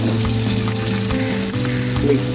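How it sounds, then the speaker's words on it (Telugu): Kanagartha fish pieces fry in hot oil in a pan, making a loud, continuous close sizzle with crackling throughout and no talking. "ఫిష్ కరెక్ట్గా అన్ని పక్కల నుంచి ఫ్రై అవుతుంది."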